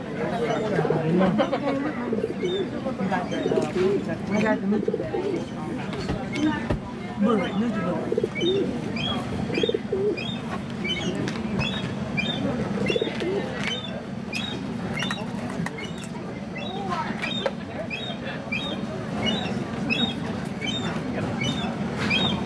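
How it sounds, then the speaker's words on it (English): Pigeons coo in a steady outdoor flock on Angel Island, with soft repeated calls and occasional chirps running continuously while people chat nearby. "Pigeon."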